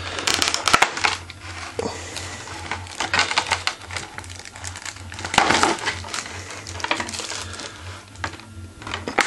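Plastic packaging from a Hatsune Miku lamp statue is crinkled, crushed and tossed aside, giving a dense run of close crackles and sharp rustles with a low steady hum underneath.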